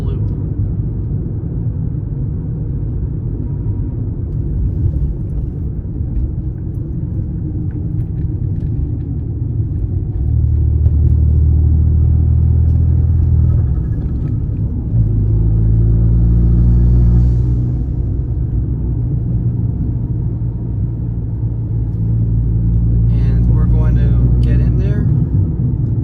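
An Abarth small car drives a loop road in Florida, its engine a steady low rumble from inside the cabin that swells a little as it accelerates, with a person talking over it.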